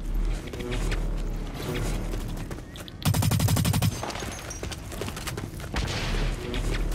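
Rapid automatic gunfire in the online shooter BLR bursts out loudly amid a busy game mix, a dense fusillade of shots lasting about a second before fading back under ongoing game noise.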